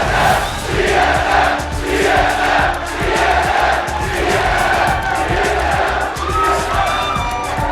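A packed esports arena crowd roars and cheers after TSM wins a close semifinal game against Vulcun in the NA regional playoffs, a loud, sustained wall of shouting and whooping that swells and rolls on throughout.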